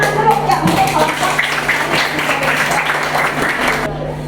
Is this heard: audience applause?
yes